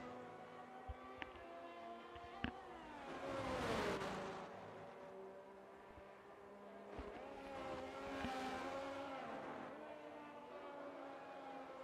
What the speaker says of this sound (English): First cars out on track for the outlap.